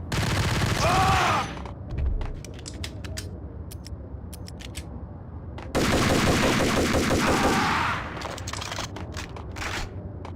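Gunfire in the PlayStation 2 version of Max Payne: two dense, loud bursts of rapid shots separated by scattered single reports and quieter gaps.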